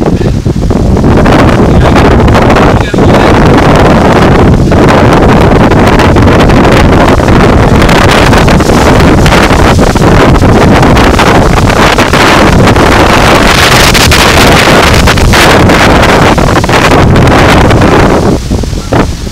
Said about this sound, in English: here comes the rain. Big time.